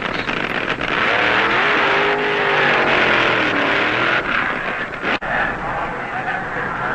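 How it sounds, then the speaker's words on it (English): Supercharged nitro-fuelled funny car drag racers roar loudly and continuously at close range, the engine pitch rising and falling, with a brief dip near the end. "These cars have greatly modified supercharged engines and run on special nitro fuel."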